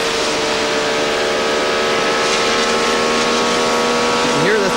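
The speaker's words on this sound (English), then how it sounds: "You can hear the throttle. That's inside Dismore's car." Onboard an Indy race car at the 1999 TransWorld Diversified Services Indy 200, Mark Dismore's engine holds a steady, loud high-revving drone with layered harmonic whine, a brief pitch dip near the end as the throttle lifts.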